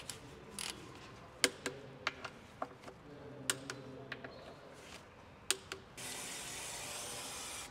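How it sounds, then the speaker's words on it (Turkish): A torque wrench tightening bolts on a city bus ZF gearbox to 23 Nm, giving a series of sharp, quiet clicks and ticks spaced irregularly over a low workshop hum, ending in a burst of hiss. "23 Nm torkla sıkıyoruz."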